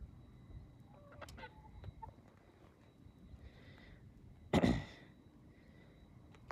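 Desi and broiler chickens being fed grain give faint scattered clucks over a quiet farmyard background, with one louder, harsher squawk partway through.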